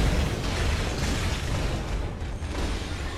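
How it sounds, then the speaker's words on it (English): Fireworks are being set off outside, heard as a dense, steady roar of crackling and booming that fills the whole stretch at an even loudness rather than as separate bangs. "excuse the loud noise in the background, someone's outside shooting fireworks,"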